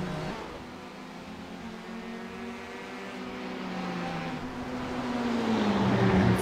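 Ferrari race car engine in the iRacing sim during a Watkins Glen series race, a steady droning whine whose pitch slides as it revs, swelling louder toward the end.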